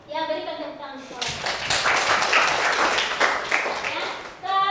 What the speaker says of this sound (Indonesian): ya berikan tepuk tangan sekolah